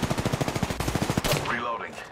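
Automatic weapon fire in the Apex Legends game: a rapid burst of about a dozen evenly spaced close shots, then a brief whooshing tail, with faint voices underneath.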